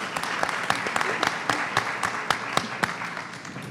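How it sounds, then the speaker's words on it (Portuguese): Sparse clapping at a university celebration event as a small team stands to be recognized, distinct individual claps ringing out over quiet murmur in a room. "Pode levantar, gente, para receber aplausos."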